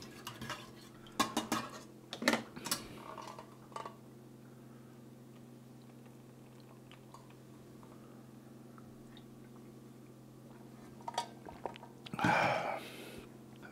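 A spoon clinks and scrapes against a cup in a few quick bursts of stirring, quiet and close, with faint chewing and utensil sounds between and a steady low hum underneath.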